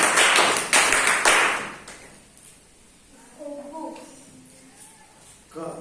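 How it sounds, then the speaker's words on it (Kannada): A few sharp claps ring out loud and close at the start, then give way to quiet room noise and a faint murmur of talk. "ಸರಿ, ಒಂದು ಚಪ್ಪಾಳೆ."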